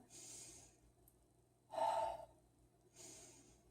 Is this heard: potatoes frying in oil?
no